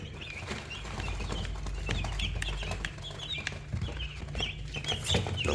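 About forty-four chicks raised indoors under a bed, eating feed, chirping and clucking in a busy overlapping chorus at close range, with soft pecking and rustling underneath.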